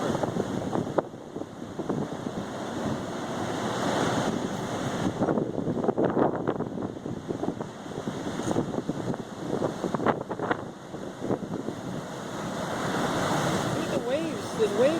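Waves and gusting wind on the coast at Westerly, Rhode Island during Hurricane Sandy: a loud, continuous roar of surf mixed with wind buffeting the microphone, with people talking intermittently.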